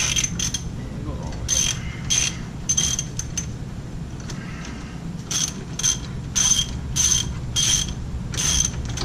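A ratchet with a 19mm socket works the wheel studs on a 2014 Ford Explorer wheel hub, giving repeated bursts of quick metallic clicking, close and crisp, separated by short pauses.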